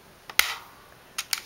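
A Nerf Modulus Strike blaster fires a foam dart with a sharp snapping click, followed by a few lighter mechanical clicks, close and clear in a quiet room with no talking.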